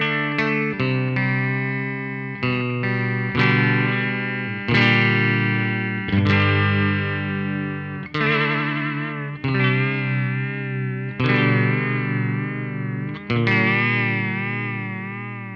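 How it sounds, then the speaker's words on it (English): Electric guitar run through an XVIVE mini chorus pedal set to vibrato, playing sustained chords with a strong pitch wobble and distorted tone, loud and close, each strum ringing out with no voices. "I'm going to roll this chicken head knob over to the vibrato side and check this out"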